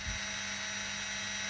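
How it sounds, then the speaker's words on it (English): An electric drill runs steadily and close by in a workshop during a 1/10 scale drag car build, a sustained whine with a low thump at the start and no talk. "Sorry about the noise of the bloody drill"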